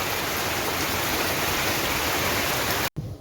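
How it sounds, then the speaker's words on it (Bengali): Heavy rain pours steadily in a rural village setting while strong wind blows, forming a dense, loud, unbroken wash of noise that cuts out abruptly near the end. "এখানে কত স্পিডে বৃষ্টি পড়তেছে, অনেক বাতাস, গাছপালা উঠতেছে"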